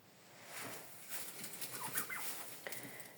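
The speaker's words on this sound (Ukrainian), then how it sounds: "Тепер в господарстві маємо повноцінних індиків." Soft, fairly distant gobbles and clucks from adult turkey hens rise and fall over a quiet, airy background.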